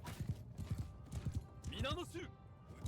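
Horse hooves galloping in the Mount & Blade 2 Bannerlord video game, a quick rhythmic clip-clop with a brief whinny partway through, under a voice talking.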